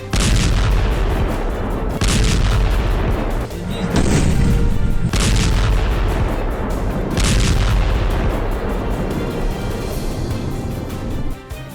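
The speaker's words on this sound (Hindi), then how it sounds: "ये तो वो धमाके हैं जो गिने गए, जो वीडियो में दर्ज होकर ऐतिहासिक दस्तावेज बन गए" Heavy booming explosions and blasts from strikes on Kyiv, loud and rumbling, several strikes overlapping in a dense, continuous barrage.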